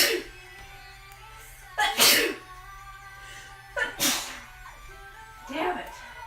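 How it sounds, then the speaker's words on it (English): A man sneezes several times while cooking beef stroganoff in a home kitchen, with three or four sharp, loud bursts spaced a couple of seconds apart over a low steady background hum. "I gotta sneeze."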